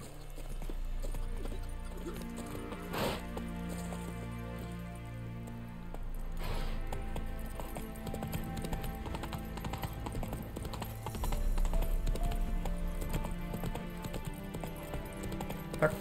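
Hooves of a horse in The Witcher 3 clip-clop over a steady bed of game music and ambience, a continuous rhythmic gait running throughout with a brief whinny-like burst early on.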